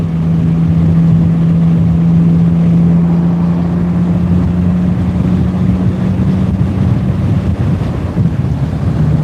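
BMW E85 Z4 on a test drive, heard from inside: a steady, loud drone of engine and road noise mixed with heavy wind buffeting, continuous throughout with no talking.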